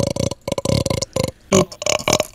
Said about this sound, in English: Burp one more time.